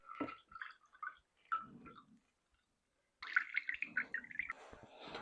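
Blood and Sand cocktail poured into a glass, a short liquid trickle and splash after a quiet pause, close and fairly faint.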